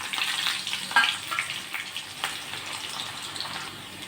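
Chopped garlic and onion hitting hot oil in a pan, a bright crackling sizzle that bursts near the start and settles into a steady hiss, no talking.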